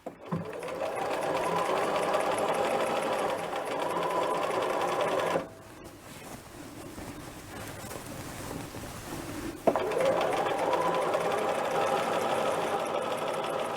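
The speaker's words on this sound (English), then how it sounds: "so that I do not have any additional weight pulling while I am sewing in the sleeve" A domestic sewing machine stitches a sleeve onto a dress from McCall's 8031 pattern in two steady whirring runs, separated by a short quieter pause.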